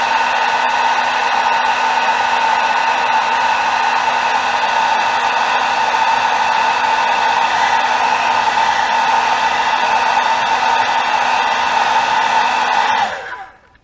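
A hair dryer blows steadily and loudly, drying freshly airbrushed paint on a smallmouth bass fishing lure, running alone for about thirteen seconds before cutting off at the end.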